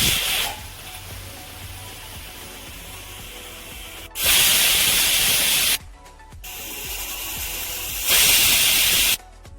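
A pressure cooker cooking spinach sambar releases steam in loud hissing whistles, two long blasts of several seconds each separated by quieter gaps.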